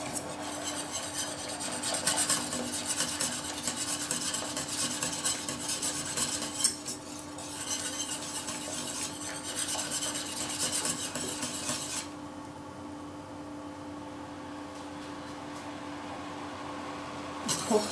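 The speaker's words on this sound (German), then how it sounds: "die restliche heiße Marmelade, die wir dann über die Schüle drüber streichen" Hot jam spread over a cake base for a Punschtorte, with continuous scraping and rubbing of a utensil across the layer, close up, fading to a quieter scrape near the end.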